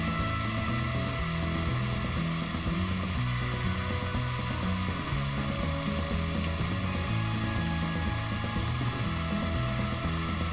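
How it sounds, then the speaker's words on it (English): A salamander heater in a garage gives a loud, constant blower roar with a rattling mechanical hum underneath, running steadily the whole time without any talking. "that's my salamander kicking in to put a little heat in the garage"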